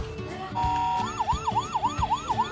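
A toy fire truck blares an electronic siren: a steady tone first, then a rapid wailing up-and-down sweep repeating about six times, loud and close amid a busy toy shop.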